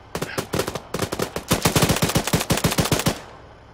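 Sustained machine gun fire in ArmA 3, loud rapid bursts of closely spaced shots with brief pauses between them, building into a long continuous volley before cutting off.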